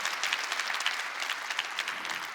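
Dense, steady applause from a church congregation during a Sunday service fills the room, many hands clapping at once without pause.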